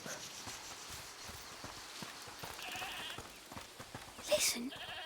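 A goat bleats in a video game, a short wavering cry near the end over quiet ambient game sound with faint hoof-like taps earlier.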